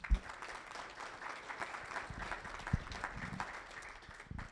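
A small audience at a chamber of commerce member meeting claps, faint scattered applause with a few sharper individual claps, heard from a distance in a quiet room.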